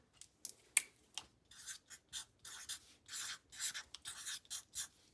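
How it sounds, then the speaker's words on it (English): Pen scratching across paper in short bursts and strokes, writing a date by hand at close range, quiet and alone with no voices. "And let's write the date."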